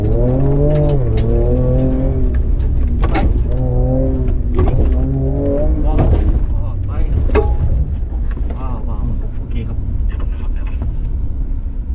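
Ford Ranger Raptor pickup, 2.0-litre or 3.0 V6, accelerating hard on an off-road driving course, engine revving loudly and continuously beneath an instructor's speech throughout.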